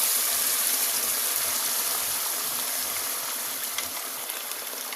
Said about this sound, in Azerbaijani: Qaynar çaynikdə bax beləcə su əlavə edirik.